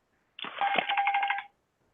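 A phone rings in one short electronic burst lasting about a second, close and clear, followed by silence, with no talk over it.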